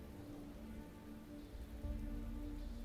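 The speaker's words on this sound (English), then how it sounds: "At some point, the rain began to fall once more. It fell softly and slowly" Soft, slow rain in the video game Fantasian Neo Dimension falls steadily on a surface. It is a quiet, even patter that swells slightly toward the end, with no voices.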